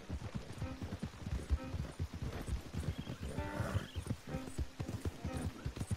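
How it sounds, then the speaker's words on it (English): Horses clop along in the video game Red Dead Redemption 2, a quick, even rhythm of hoof beats close by, with a brief neigh partway through and faint background sound. "Don't want the horses clopping around outside the window."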